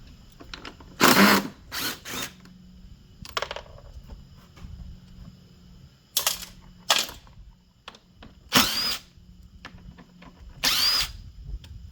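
A power drill backs out the four screws holding the axle on a Toro electric mower, giving several short loud whirring bursts separated by quiet pauses, close up, with no talk.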